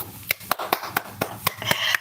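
Single pair of hands clapping in a live channeling session, about nine sharp, evenly spaced claps over two seconds, close and clear with no talk.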